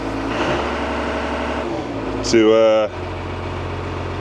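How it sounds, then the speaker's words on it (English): A JCB Fastrac tractor engine idles, then briefly revs up about halfway through before settling back to a steady idle, with a voice speaking over it. "Like I say, the alternator does take a few revs."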